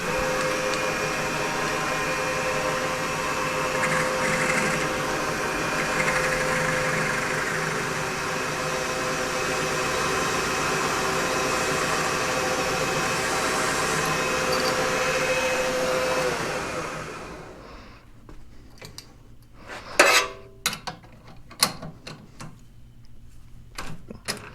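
A lathe faces and chamfers the ends of metal spacer blocks, giving a steady, loud mechanical whir with tonal whine for about sixteen seconds before spinning down, followed by several sharp metallic clanks and taps.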